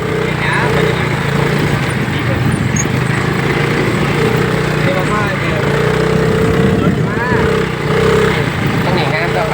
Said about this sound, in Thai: รถไถเนาะนะ